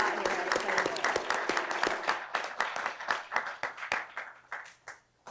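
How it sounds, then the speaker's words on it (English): An audience at a mayoral agreement signing applauds, steady dense clapping that gradually thins into scattered individual claps near the end, with some voices mixed in. "give yourselves a big hand of applause"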